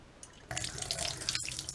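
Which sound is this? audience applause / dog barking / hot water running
hot water running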